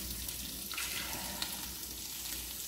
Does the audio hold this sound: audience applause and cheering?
no